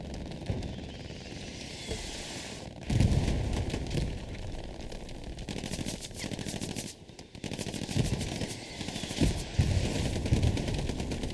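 Hell Let Loose video game battle with a satchel charge blast and sustained gunfire: dense, continuous machine-gun bursts and booming impacts, loud and close, rumbling throughout without pause.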